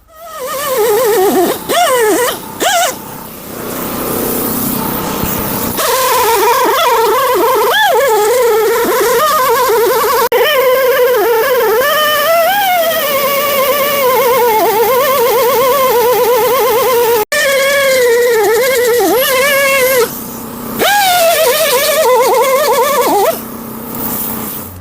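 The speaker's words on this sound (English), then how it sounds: "we'll get the zippy wheel and just give it another once over" A zippy wheel grinding the metal body of a crusty Charger: loud, high, whining abrasion that rises and wavers in pitch as it bites, with short pauses and restarts along the way.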